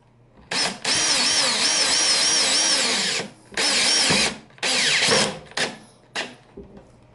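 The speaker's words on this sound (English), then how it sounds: "I slowly drill in the self-tapping screw" A power drill drives self-tapping screws into an L bracket clamped to a spoiler board, whining loudly in several sustained bursts that rise and fall with trigger pressure, with short pauses between.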